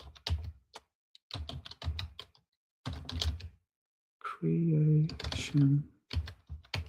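Computer keyboard typing in short bursts of clicks, close and moderately loud, alternating with a person talking, with a tonal hum appearing midway.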